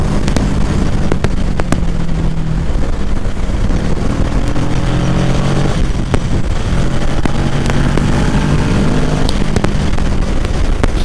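A 2020 Kawasaki Ninja 650 being ridden, its engine droning steadily with rising and falling pitch as it accelerates through gears, heavy wind rush over everything, with no talking.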